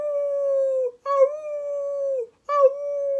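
A singer imitates a hound dog's howl, giving three long sustained 'awoo' cries with tonal harmonics, the first two separated by brief pauses, clear and close.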